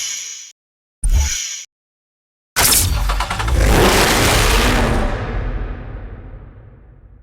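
A Lamborghini Gallardo LP 564 in Need for Speed Hot Pursuit (2010): two short engine bursts separated by silence, then a loud, sustained roar as it revs hard and slowly fades away.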